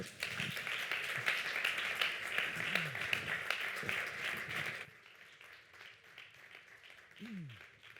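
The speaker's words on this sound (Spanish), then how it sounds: "Un fuerte aplauso para él." An audience claps for a climate scientist being introduced at an environmental talk, fairly loud sustained applause that stops abruptly about halfway through, followed by quieter room sound and some murmuring voices.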